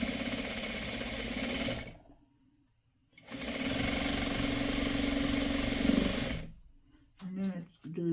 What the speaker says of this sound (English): I'm gonna sew the bottom of our sailboat together like that.